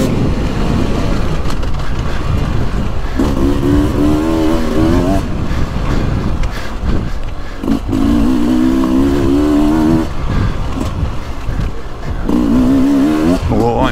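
2023 Beta 300 Race Edition or Yamaha YZ450F Monster Edition dirt bike ridden hard, loud close engine revving up and down through repeated rising acceleration pulls, with faint talk underneath.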